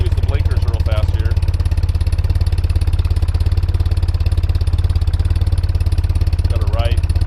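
A 1993 BMW R100GS Paris Dakar motorcycle idles steadily close by, its boxer engine giving an even, rapid thumping pulse throughout, with someone talking over it.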